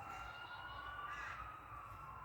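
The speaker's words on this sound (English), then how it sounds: "I don't know if you guys can hear the sirens." Emergency sirens wail far off in steady, sustained tones, faint beneath a low outdoor rumble, with crows cawing nearby.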